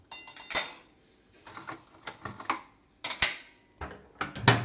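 Ceramic dishes and metal utensils clink and clatter in short, irregular bursts as rice is served onto a plate, close and fairly loud with quiet gaps between.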